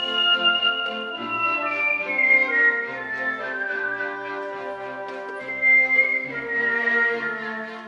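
A whistler carries a classical melody in clear, sustained tones over orchestral accompaniment at a theatre performance, the whistled line sliding and held prominently above the instruments throughout.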